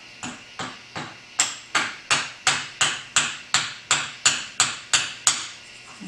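A lead hammer strikes a big lathe tailstock in a steady series of about fifteen sharp metallic taps, roughly two per second, close and fairly loud, with no talking over them.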